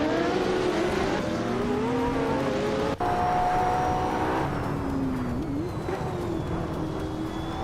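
A 1994 Toyota Supra race car engine in a video game drones steadily with rising and falling whine, joined by other cars' engines close behind in a continuous loud roar.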